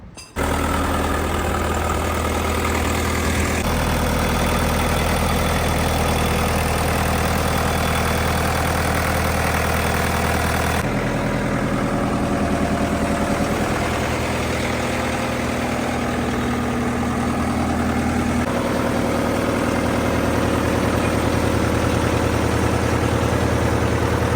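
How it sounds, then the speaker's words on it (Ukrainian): A Kentavr 404 SD tractor's 40 hp four-cylinder engine idles steadily throughout, a low rumbling drone with faint vibration and slight shifts in tone, no voices. "Демонструю вам роботу двигуна та світлових приладів"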